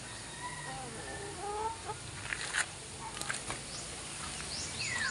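A hen clucking while laying eggs on a farm in Batangas: faint, intermittent clucks and soft fowl calls against a quiet, hissy background.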